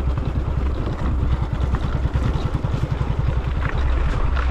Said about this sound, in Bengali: বাইক নাহলে ঝরঝরা হয়ে যাচ্ছে